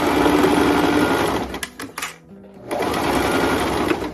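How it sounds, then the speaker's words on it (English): A domestic sewing machine stitches a tote bag seam, running as a close, steady whir for about a second and a half, stopping and starting in brief bursts, then resuming its continuous drone. "so we close it and we sew. And we keep sewing, we keep sewing."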